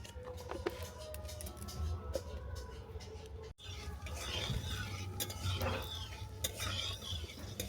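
Dry red chillies and panch phoron frying in oil for a vegetarian spiny gourd curry, a low steady sizzle under faint stirring taps and scrapes, close but quiet, with a brief break midway.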